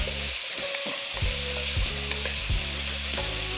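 Potatoes frying in bacon grease in a skillet give a loud, dense, close sizzle. Spatula scrapes recur every half second or so as the potatoes are pushed around.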